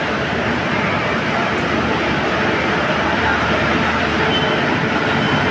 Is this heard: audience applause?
no